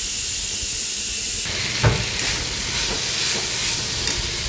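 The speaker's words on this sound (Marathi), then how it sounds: "स्वच्छ धुवून घेतलेली गवार आपण याच्यामध्ये कढईमध्ये घालणार आहोत" Washed cluster beans (gavar) are tipped into a hot kadhai, setting off a loud hissing sizzle that jumps in intensity, followed by a sharp clatter and stirring scrapes over the continuing fry.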